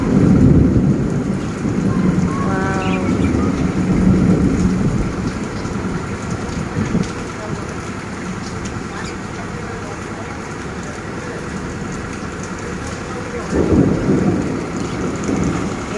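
Steady rain pours through a spring thunderstorm, a broad continuous hiss with low rumbles of thunder near the start and again toward the end, and a bird chirps briefly amid the downpour.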